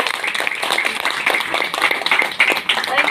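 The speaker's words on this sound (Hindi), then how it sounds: "एक बार जोरदार तालियां" An audience at a business motivational speech event claps loudly. The dense, continuous applause fills the whole short stretch.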